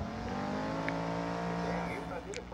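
Simulated race car driving in the mobile racing game Need for Speed No Limits, a drift event: a steady, close engine drone with sustained tones and a brief higher whine near the end, continuous throughout with no pauses.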